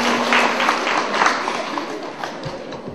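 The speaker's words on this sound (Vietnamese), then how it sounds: "cho một tràng pháo tay hay quá." An audience at a Buddhist dharma talk bursts into applause, a dense wash of clapping that starts loud and tapers slightly over three seconds.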